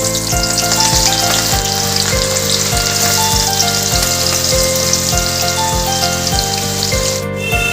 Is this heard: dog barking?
no